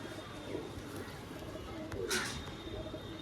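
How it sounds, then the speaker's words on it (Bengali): Madras pigeons coo softly in a quiet setting, a faint, low, throaty murmur over a faint background hum. "পরে কিছু ম্যাড্রাস পায়রা আপনাদের দেখাচ্ছি।"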